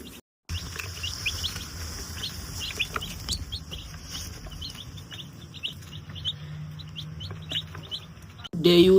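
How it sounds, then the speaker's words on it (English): Six-week-old chickens clucking and chirping in a busy, continuous chorus with scattered sharp peeps, close by and steady throughout, ending in a brief louder noise. "Chickens."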